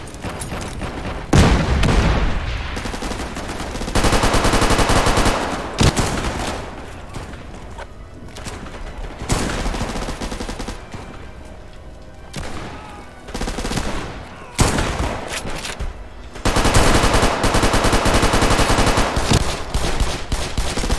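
Sustained automatic gunfire and heavy bursts fill the Frontline: Karelia video game battle, loud and dense with brief dips, almost continuous throughout.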